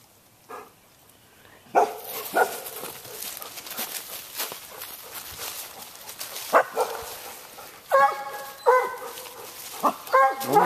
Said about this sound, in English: Oh my goodness, the big dogs.